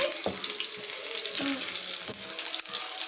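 Water running from a kitchen tap in a steady, close hiss with occasional splashes and light clatter, as greens are washed for a traditional mixed saag.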